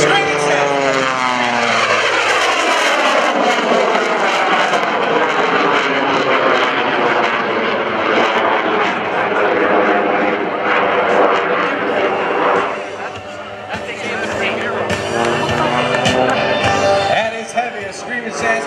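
The Screamin' Sasquatch Jet Waco biplane flies at an Air National Guard airshow in 2014 with a loud, continuous roar of propeller engine and jet thrust. The sound stays close and overpowering throughout, dips briefly, then surges again. An announcer speaks over it.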